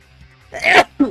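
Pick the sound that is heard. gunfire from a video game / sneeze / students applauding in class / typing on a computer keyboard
sneeze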